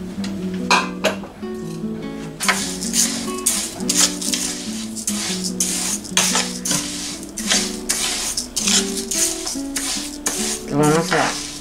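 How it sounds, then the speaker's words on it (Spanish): Rice being stirred in a pot as it fries for arroz con pollo, with scraping and gentle crackling under steady background music and occasional talk. "Vamos a estar meneando, ¿verdad? Hasta que cambie de color."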